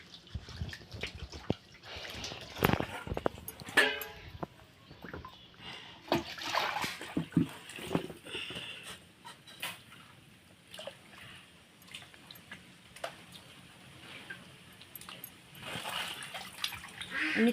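Two scaled koi fish and other market fish being washed in water, with irregular splashing and sloshing close by, dripping between bursts, and some faint background sounds.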